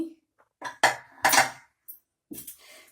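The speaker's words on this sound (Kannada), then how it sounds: "ಈಗ ಕುಕ್ಕರ್ ಲಿಡ್ ಕ್ಲೋಸ್ ತೆಗ್ದಿದ್ದೀನಿ" A pressure cooker lid comes off during the cooking of chepekai togarikalu bath, with a handful of sharp metallic clanks and clatters spaced unevenly, close and moderately loud.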